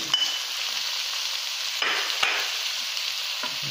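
Chicken intestines frying with ginger, onion and garlic in a pan for adobong isaw, a steady broad hiss of sizzling oil with a couple of sharp clinks from a utensil, close and even.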